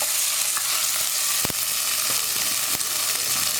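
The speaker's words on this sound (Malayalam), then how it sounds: "നമുക്കിതിലേക്ക് റേസിൻസ് ആഡ് ചെയ്യാം. ഈ റേസിൻസ് ഒന്ന് വീർത്ത് വരുന്നത് വരെ നമുക്ക് ഇളക്കി കൊടുക്കാം." Raisins and cashews stirred as they fry in a pan for semiya payasam, a steady close sizzle filling the whole stretch with a few soft scrapes of the spoon against the pan.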